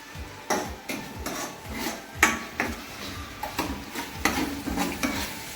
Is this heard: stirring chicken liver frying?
yes